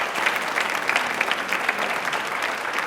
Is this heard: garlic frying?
no